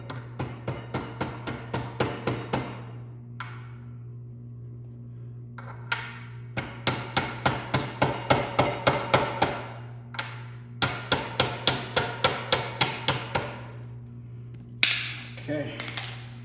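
Hammer tapping a tool held against the front axle bolt of a 2011-2019 Suzuki GSX-R 600/750 motorcycle, a long run of sharp metallic taps in steady bursts with brief pauses, fairly close, over a constant low hum and no talking.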